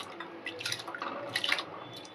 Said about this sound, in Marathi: मी इथे आता ही मुगाची डाळ शिजायला घालून घेते